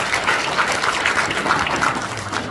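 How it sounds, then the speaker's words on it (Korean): Attendees at a city forum in Incheon applaud the council committee chairman, a continuous dense wash of clapping at even loudness. "큰 박수를 한번 보내주셨으면 좋겠습니다"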